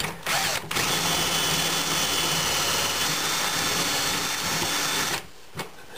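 A power drill whines steadily and loudly for about five seconds while drilling a hole for a kitchen cabinet hinge repair, with a short pause near the start and a spin-down at the end.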